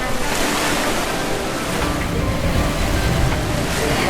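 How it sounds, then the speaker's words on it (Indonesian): Ocean waves wash steadily onto Lhoknga beach, a loud, continuous rushing surf with some wind buffeting the microphone and no pauses throughout. "Kita langsung ada di samping pantai,"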